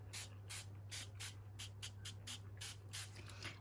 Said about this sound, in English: I'm just going to spray them with a bit of water just to sort of add a little bit more moisture.